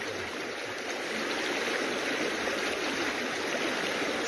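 A creek with strong, fast-flowing water, worked for gold, rushes steadily and loudly, a constant broadband roar with no talking over it.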